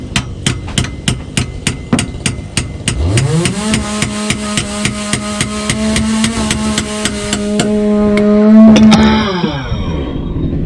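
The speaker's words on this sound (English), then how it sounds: "need a chisel and hammer to get this off" A hammer drives a chisel against the rusty exhaust of a 2.4 Volvo V70 in steady, sharp, close metallic blows. Midway a whining motor rises and holds, then drops away, while the strikes continue.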